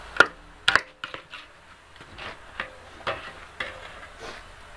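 A spoon scrapes and gathers flour together in a pot with a series of short, irregular knocks and scrapes, louder at first and then softer, against a quiet background.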